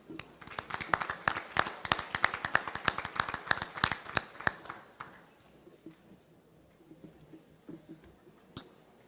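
A modest audience at a Kansas FFA state awards event claps for a presenter with crisp, distinct, close-sounding claps that fade out after about five seconds, leaving quiet room noise and a stray clap.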